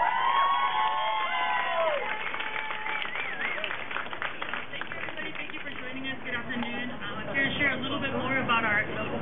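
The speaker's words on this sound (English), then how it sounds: "a big round of applause for Annette Wong" Crowd cheering and clapping at a San Francisco City Hall family day celebration, honouring a coordinator: loud, continuous and close, with shouts and whoops mixed into the steady wash of applause and voices throughout.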